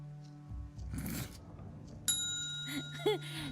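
A small bell is dinged twice on a tabletop gaming talk show. Each strike gives a bright, clear ring that lingers, after a moment of soft rustling and background noise, with no talking.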